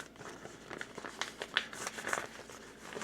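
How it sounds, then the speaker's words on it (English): A paper cone coffee filter being folded by hand, close soft crinkling and rustling in short irregular bursts for a few seconds. "Cone coffee filter. I like to fold it down like this."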